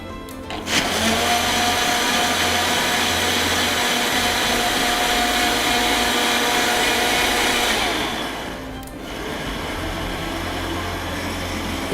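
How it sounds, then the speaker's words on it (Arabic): Blender whirring as it mixes chili extract, oil and wax into a cream, running as a steady loud whine for about eight seconds and then dropping to a lower, quieter hum. "اول ما هنبتدي نخلط بالخلاط"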